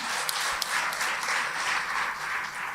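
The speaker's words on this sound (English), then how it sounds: "Round of applause" Applause from an audience at a girls' high school centenary celebration, a steady, moderately faint wash of clapping lasting throughout with no voices over it.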